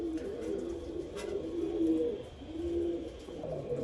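Pure Rajan bloodline pigeons coo close by in a soft, repeating rhythm of low, throaty calls over a faint background hiss.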